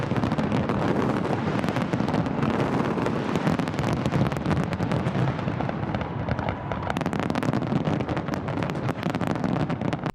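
A New Year fireworks display in Australia sends out a dense, continuous barrage of loud crackling bursts and booms for the whole stretch, with no voices.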